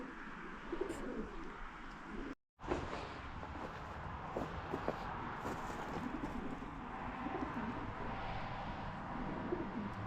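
Pigeons coo softly and repeatedly inside a barn shed, mid-distance and fairly quiet, with a short dropout early on and faint rustling or footsteps beneath the calls.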